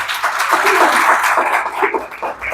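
Church congregation clapping in praise during a Spanish-language service, a broad wash of many hands that swells and then thins out toward the end, with a little voice mixed in.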